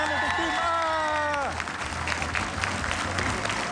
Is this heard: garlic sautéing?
no